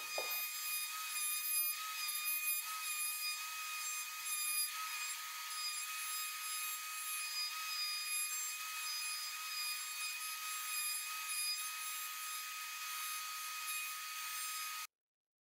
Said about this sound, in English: I've just got a cove bit in the router, and I'm going to use that to make a shallow groove all the way around the outside of this circle